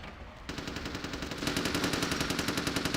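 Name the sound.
gunfire in a video game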